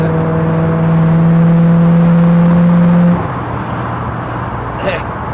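A red 1965 Ford Mustang with GT options runs close by, its engine holding a loud steady drone with a rising whine before the revs drop back to a lower idle hum.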